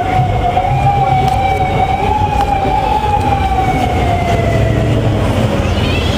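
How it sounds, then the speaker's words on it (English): A loud emergency vehicle siren wails steadily, its pitch slowly rising and falling over traffic rumble, sounding fairly close. "There they go, sirens everywhere."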